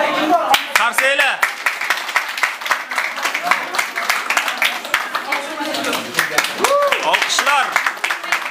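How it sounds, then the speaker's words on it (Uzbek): Crowd applause at a blood donation event: sharp, rapid clapping runs steadily throughout, with voices talking over it. "Qarsaylar."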